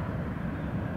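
JetBlue Embraer jet airliner settling onto the runway at Austin-Bergstrom airport, a brief steady low engine roar heard from a distance.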